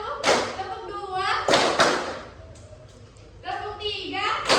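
Classroom children clap a counted clap pattern, making a few quick, sharp claps between spoken counting from a teacher's voice.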